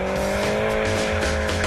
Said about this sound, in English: hearing the engines growl is worth it